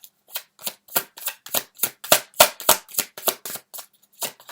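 Tarot cards being shuffled and drawn by hand, a steady series of about fifteen crisp, close riffling snaps in quick succession, with no talking.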